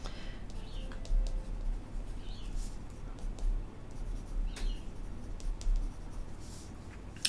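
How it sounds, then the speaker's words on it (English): A note being written by hand gives faint, soft scratching strokes in short irregular bursts over a quiet room hum. "I have to write this one down."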